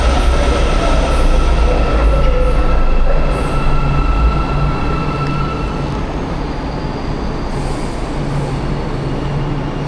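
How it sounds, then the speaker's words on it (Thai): A metro train rumbles loudly and steadily into a station in Malaysia, with a deep roar, faint high squeals and a sustained tonal whine as it rolls in. "รถไฟต่อไปกี่นาทีจะมาถึงแล้วนี่เหลืออีก2 นาทีก็จะมาถึงแล้ว"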